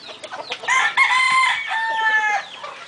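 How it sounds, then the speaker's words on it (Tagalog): Roosters crow and hens cluck among newly hatched chicks on a Kelso gamefowl farm in Caoayan, Ilocos Sur, with a loud, drawn-out crow rising over continuous nearby clucking and calls. "Yan, yung mga bagong pisang sisiw. Newly hatched chicken."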